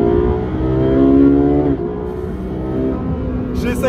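Naturally aspirated V8 of a Ferrari 458 Speciale revving hard, a loud, steady engine drone climbing in pitch, then briefly dipping at a shift before pulling again, with a voice talking over it.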